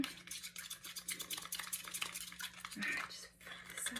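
Paint being stirred and mixed with a tool while blending zinc white and raw sienna, giving a steady close-up scraping and swishing with a faint clatter, continuous and moderately loud throughout.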